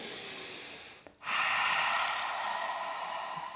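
A single long Ujjayi exhale during yoga practice: after a short pause, a steady, soft breathy rush begins and holds evenly for a couple of seconds, close and alone.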